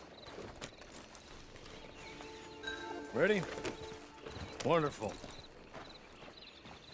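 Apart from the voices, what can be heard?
horse hooves clip-clopping in the video game Red Dead Redemption Online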